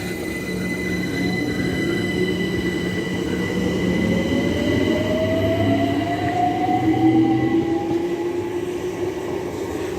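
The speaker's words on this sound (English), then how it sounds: "The 14:35 London Overground service from Clapham Junction to Dalston Junction." A London Overground Class 378 electric train at Clapham Junction, bound for Dalston Junction, gives a steady rumble of wheels on rail with rising traction-motor whine and faint squealing, continuous and fairly close.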